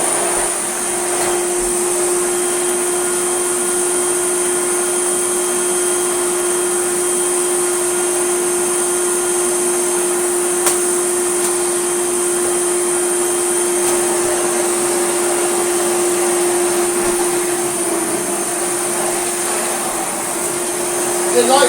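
A yellow Hoover Celebrity S3005 vacuum cleaner runs steadily, giving a loud, continuous motor whine with a high pitched tone and a broad airy roar. It stays near and constant throughout, with faint talk in the background.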